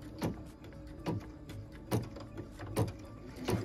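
An embroidery machine stitches a tack-down line holding felt to stabilizer, giving a soft, repeating mechanical whir-thump about every 0.8 seconds, close and fairly quiet.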